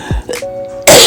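A single short throat-clearing cough, close and fairly loud, followed by a faint brief tone and then a burst of broadband noise.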